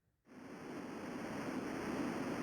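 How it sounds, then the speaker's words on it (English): White noise from a Mutable Stages modular synth drum patch switches on abruptly after a brief silence, then holds as a steady, dense hiss that grows slightly louder with no voice over it. "some white noise, a triangle VCO, and a low sine from an oscillating filter."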